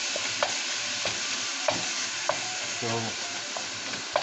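Ground beef sizzles steadily in a hot pan, with a constant frying hiss and a few sharp clicks and scrapes of stirring scattered through, up close with almost no talk.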